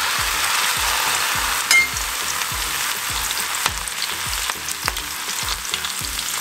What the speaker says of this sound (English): looks like my oil has heated up, so I'm going to throw some of these bhindi in there